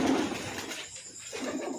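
Pigeons coo softly in a loft at night, a brief low murmuring call fading in and out with no talk.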